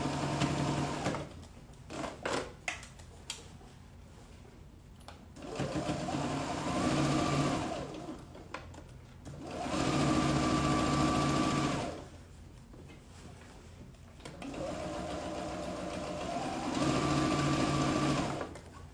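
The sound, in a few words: sewing machine topstitching elastic shorts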